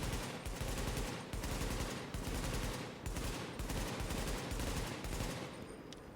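SCAR-L assault rifle in The Division fires in repeated short bursts, loud dense crackling volleys broken by brief pauses roughly every second, with no talking.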